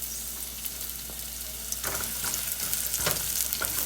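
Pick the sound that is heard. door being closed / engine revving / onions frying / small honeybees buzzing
onions frying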